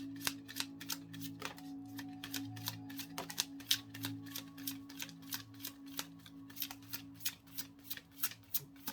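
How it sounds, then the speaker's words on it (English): Tarot cards are shuffled over and over in quick, crisp riffling bursts, close and fairly quiet, with a faint steady hum beneath and no talking. "Just get one more shuffle."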